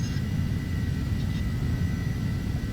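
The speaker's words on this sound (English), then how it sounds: "I swear, your plane sounds like a concrete saw." A simulated airplane engine drones in Flight Simulator X, a steady low rumbling hum with a faint higher whine, continuous and unvarying, with no talking.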